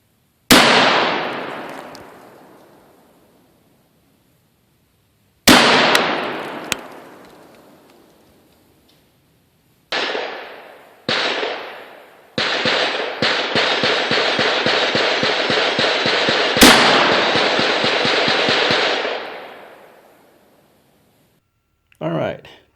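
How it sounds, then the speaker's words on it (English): Sharp, loud rifle reports ring out from a Smith and Wesson Performance Center Stealth Hunter fired from a rest at a 50-yard target, several single shots each trailing off in a long echo, then a rapid burst of closely spaced shots. "I'll be shooting from a rest using the Vortex Venom as my optic, and the distance to target is 50 yards"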